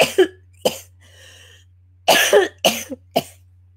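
Several sharp coughs in two bursts, with a brief throaty pause between, close to the microphone over a low steady hum.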